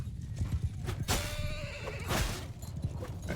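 Cavalry horses galloping in a Bannerlord battle, with rapid clip-clop hoofbeats and a loud neigh over a noisy fight, no talk.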